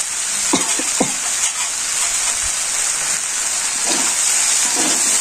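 Garlic paste frying in a pan of fish curry with dried fish in a village kitchen, giving a steady, loud hiss of sizzling oil throughout, broken by a few soft clinks and knocks.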